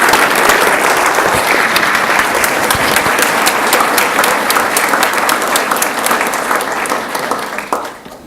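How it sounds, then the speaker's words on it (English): Sustained applause from an audience at an awards event honoring recipients, dense and steady clapping that continues at full strength before fading near the end. "Can we get one more round of applause for all of our honorees today?"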